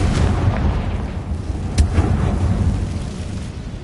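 Bombarda and Confringo spell explosions in the Hogwarts Legacy video game, heavy booming blasts with rumbling low end, a sharp crack midway and a few thuds, with no voices.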